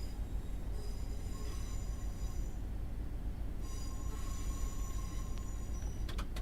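In the Train Sim video game, a train departs from Wigan toward Liverpool, giving a steady rumbling rail drone with high wheel squeals coming and going and a few sharp clicks near the end, fairly quiet, with no talk.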